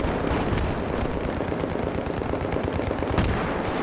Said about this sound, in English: Someone's planting C4 and blowing it up to the ground.